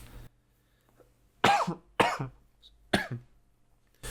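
A few sharp coughs close to the microphone, three or four harsh bursts spaced about half a second apart, with quiet in between.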